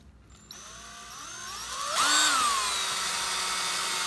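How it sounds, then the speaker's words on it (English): A 1/8 inch power drill bores a hole through foam and model scenery, its motor whining steadily and rising in pitch as it bites into the material, loud and close with no talk. "we're going to go ahead and drill a hole through the foam and through the scenery"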